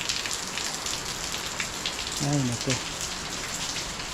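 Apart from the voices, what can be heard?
rain falling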